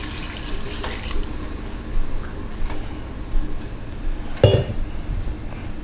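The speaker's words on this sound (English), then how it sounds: "now go add some water to it now. Me use some hot water because me don't want to stop the cooking process." Hot water is poured into a pot of Jamaican-style stew pork, giving a steady close liquid rush with soft splashes and a sharper sizzle or bubble burst near the end, with no talking.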